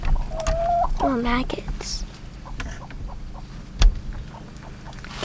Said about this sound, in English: we need to try to get these chickens out of here